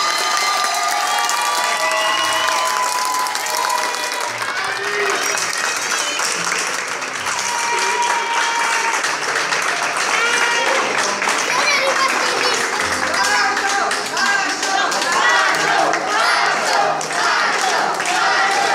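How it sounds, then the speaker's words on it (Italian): Loud, sustained applause and cheering from a crowded room fill a wedding reception in Italy as guests clap for the newlyweds, with scattered shouts and voices throughout. "Un applauso per gli sposi."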